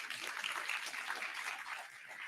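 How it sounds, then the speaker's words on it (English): An audience claps for a speaker at a talk: a dense, fairly faint patter of applause that holds steady and trails off slightly at the end. "let's give another round of applause to our beloved speaker"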